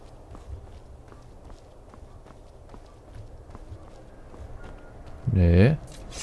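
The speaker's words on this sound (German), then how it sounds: "Das sind Pferde." Horses' hooves clop at a steady, regular pace in the game Skyrim, moderately quiet and mid-distance, with a brief louder tonal burst near the end.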